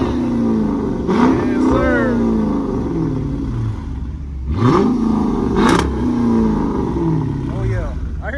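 Chevrolet F-body Camaro on large aftermarket wheels at an outdoor car show, its engine revved in a few sharp bursts that rise and fall over a steady idle, close by, with people talking over it.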